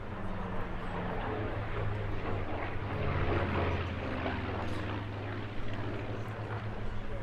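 A Spitfire Mark 16 flies at a seaside airshow, its piston engine a steady distant drone with a broad, rumbling low hum that holds evenly throughout under faint crowd and commentary ambience.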